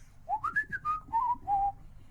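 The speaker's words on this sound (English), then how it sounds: "I mean, I can whistle." A person whistles a short, wavering tune: several sliding notes rising and falling, clear and close, with no talking.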